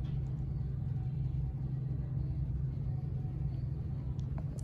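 A modernized Excel hydraulic elevator motor idles in a Neiman Marcus machine room, giving a steady low hum and rumble that holds constant and close throughout, with no talk.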